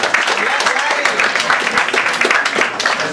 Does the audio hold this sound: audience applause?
yes